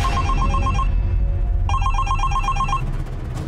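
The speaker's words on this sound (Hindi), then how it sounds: "ये तुहार फोन बजाता ना" A telephone rings in two bursts of rapid electronic trills, separated by a short pause, loud and close.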